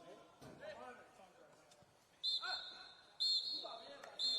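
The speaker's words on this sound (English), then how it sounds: "There is the final whistle" A referee blows the final whistle at an under-21 football match between Chelsea and Real Sociedad: two sharp, shrill blasts, the second longer, then a brief third toot, with faint crowd and pitch noise beneath.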